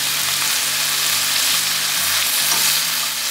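Bite-sized chicken breast pieces fry in a pan with a loud, dense, continuous sizzle heard up close, steady throughout with a faint low hum beneath.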